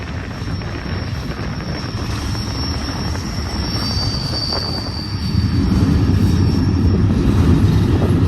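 A long double-stack freight train hauled by SD70ACe locomotives rumbles past nearby at Old Cajon Depot, its wheels squealing in a steady high whine over the broad roar of rolling cars, growing louder near the end.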